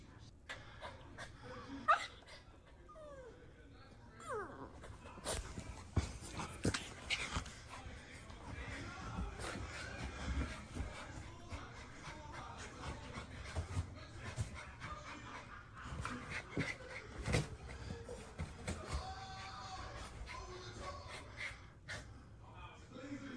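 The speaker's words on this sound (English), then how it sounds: "Oh, it's a puppy." A puppy pants and whimpers softly and close by, with a few small yelps, while people talk over it throughout.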